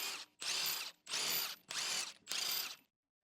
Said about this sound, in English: Use the large 21mm deep socket and large electric impact wrench to remove the wheel lug nuts.